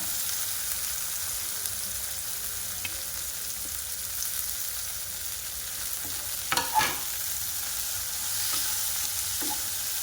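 Shredded cabbage and finely chopped onion stir-fried over a high gas flame for street-style veg hakka noodles: a steady, close hiss of sizzling, with a couple of brief scraping stirs near the middle.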